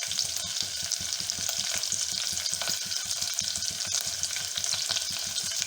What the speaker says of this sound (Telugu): ఒక 2 ఎండుమిరపకాయలు వేసి వేగించుకోవాలి.